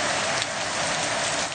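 Pounding rain in a severe Queensland storm, a loud, dense and unbroken roar of water hitting surfaces close by, with no voices.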